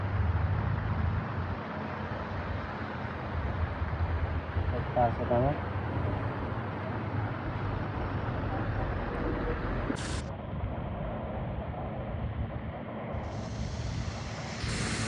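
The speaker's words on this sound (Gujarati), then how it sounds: "આપણે વરસાદ ચાલુ થઈ ગયો" Steady heavy rain hiss at a village crossroads in Vithodar, with a low rumble of wind and passing traffic, a voice speaking briefly over the constant downpour.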